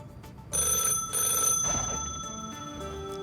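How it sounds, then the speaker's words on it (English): A landline phone rings inside The Sims video game, its electronic bell tone bursting in repeatedly and fairly loudly over soft background game music, with no voices heard. "Oh, is that a phone ringing?"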